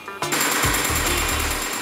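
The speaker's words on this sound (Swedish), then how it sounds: "Man smäller siktet mot en grej, uppnår 900G för att det ska hålla för en rejäla smällar." A recoil test machine slams a rifle scope against a stop at up to 900 G, producing a fast run of loud, hard metallic bangs in a quick, uneven rhythm after an initial hit.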